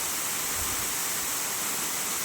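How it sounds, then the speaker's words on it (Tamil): Small waterfall deep inside a forest, a continuous dense hiss of falling water, steady and fairly close with no breaks. "இந்த அருவி ஆனால் மிக ஃபாரஸ்ட்டுக்குள்ளே தான் இருக்குது"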